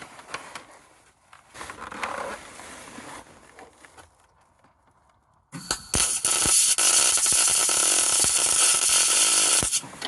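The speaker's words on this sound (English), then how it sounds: "Weld it quickly, cool it down." Welding on a shifter mechanism inside an Astro van, a loud sustained crackling buzz that starts abruptly after quieter handling noises and runs steadily to the end.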